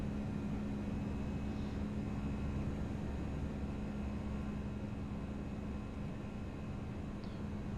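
Toliss A319 airliner engines in X-Plane 11 accelerating during climb, a steady, faint broadband roar with a constant low hum throughout and no speech.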